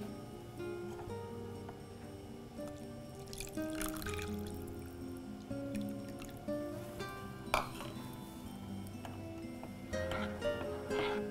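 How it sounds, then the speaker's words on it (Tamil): Tamarind water is poured into a cooking pan with lightly sautéed ingredients, giving soft splashes, drips and trickles that rise and fall over a low kitchen background. "இப்போ இது கூட அடுத்து இந்த நம்ம கரைச்சி வச்சுருக்க புளி தண்ணியை சேர்த்துக்கோங்க."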